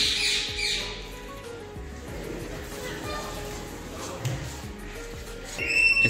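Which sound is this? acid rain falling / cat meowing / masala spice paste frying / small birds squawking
small birds squawking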